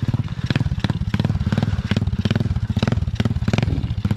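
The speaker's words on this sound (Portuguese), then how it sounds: "Acelera essa mini moto aí." A small mini motorcycle engine revs loud and close in a rapid buzzing rhythm, its throttle pulsing in short repeated bursts over a steady low engine drone.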